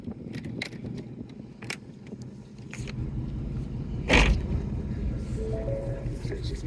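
A one-owner 2021 Roush Stage 3 Mustang rated at 750 hp pulls away. Light jingling and handling noises come first, then a steady low engine rumble builds and holds up close, with a brief thump partway through.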